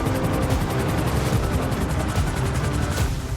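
Helicopter rotor thumping in a first-person shooter video game match, loud and steady throughout, mixed with dense bursts of gunfire and explosions.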